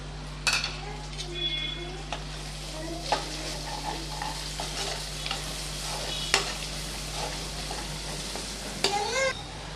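Green chilies sautéing in a pan, with a steady low sizzle under repeated sharp scrapes and clinks of a spoon stirring against the metal.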